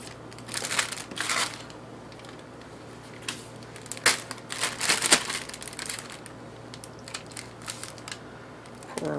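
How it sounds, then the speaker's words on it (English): Zucchini and frog legs go into a plastic bag in a home kitchen, giving soft crinkling and rustling bursts with a few sharper crackles, quiet and close, in scattered spurts. "we'll just add these in a bag, or you can do this in a glass dish."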